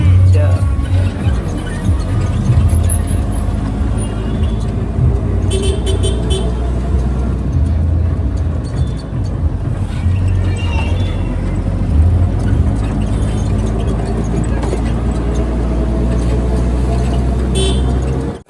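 Auto-rickshaw ride through traffic near Rani ki Vav in Patan, Gujarat: a loud continuous engine drone and road rumble, with scattered horn toots from surrounding vehicles and occasional voices.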